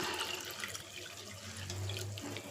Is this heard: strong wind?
no